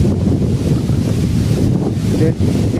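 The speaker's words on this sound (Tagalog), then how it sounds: "malakas na naman ang hangin yan" Strong sea wind buffets the microphone in a steady, loud low roar that briefly dips near the end, with water movement faintly underneath.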